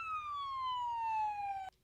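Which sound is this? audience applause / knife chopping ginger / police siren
police siren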